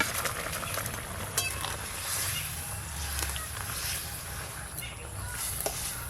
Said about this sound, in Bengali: ভেজে রাখা মাছগুলো দিয়ে দেব।